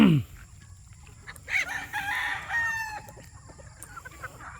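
Chickens and a rooster on a farm range, with a rooster crowing loudly mid-clip amid scattered clucks and hen calls, fairly close.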